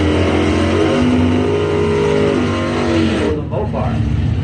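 Doorslammer drag race cars, a Dodge Dart against a Ford, roar loudly with a sustained engine drone that rises in pitch under an announcer's voice, with a brief dip near the end.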